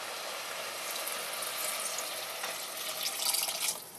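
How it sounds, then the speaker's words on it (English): Tap water runs steadily into a cooking pot for Japanese curry, a continuous hissing splash that swells slightly toward the end as the pot fills. "But we're going to add water now."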